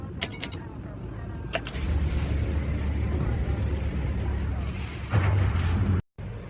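A spaceship launches from a station in the video game Elite Dangerous: a steady, loud, broadband rumble with a few sharp bursts at the start, swelling again near the end before cutting off abruptly.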